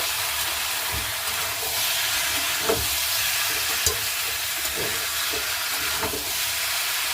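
Raw jackfruit stir-fried in a pan for a vegetarian dish, a steady loud hiss of frying with a few soft stirring knocks spaced through it.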